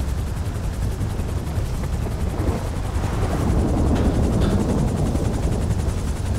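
Loud, steady rotor thrum of a helicopter flying in a video game, a constant chopping drone that swells slightly in the second half.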